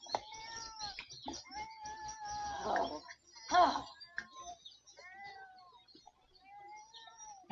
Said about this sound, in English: My cat is singing the song of his people.